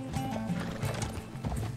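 Hooves of a spotted horse clip-clop in the video game Red Dead Redemption 2, a quick, steady run of soft thuds close by over a continuous low background.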